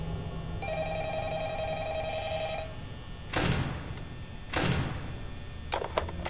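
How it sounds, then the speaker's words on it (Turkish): An in-game telephone in FNAF VR Help Wanted rings with a steady electronic tone for a few seconds, followed by a couple of dull thumps and clicks. "Telefon."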